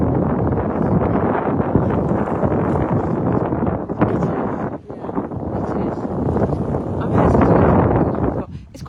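Strong wind buffets the microphone on Calshot Spit in Southampton, a loud, gusty roar rising and falling close up, with a voice speaking through it.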